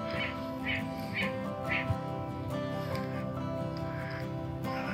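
Grebes squawk and call out on a lake, a few repeated bright cries rising over steady outdoor ambience with low rumbling background noise and some voice nearby.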